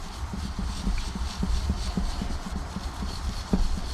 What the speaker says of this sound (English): just kind of get it on a brush, rub it in